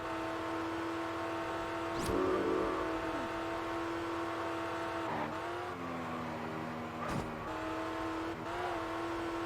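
Car engine from the racing video game Test Drive Unlimited, a steady droning hum with gear shifts and brief revs, a couple of sharp bumps or knocks along the way, no talking.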